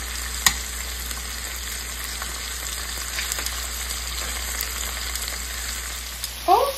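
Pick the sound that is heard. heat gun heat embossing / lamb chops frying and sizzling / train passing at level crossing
lamb chops frying and sizzling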